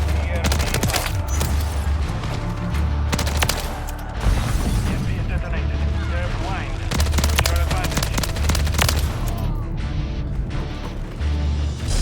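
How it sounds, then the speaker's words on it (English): Loud, sustained gunfire in a Modern Warfare 3 multiplayer match, rapid automatic bursts and heavy booms overlapping almost without pause, with a player talking over the fighting. "They're literally all shooting at each other."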